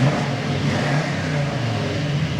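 A 1970 Camaro Z28 V8 idles indoors, a close, loud, steady rumbling burble with a low throbbing pulse and no talk over it.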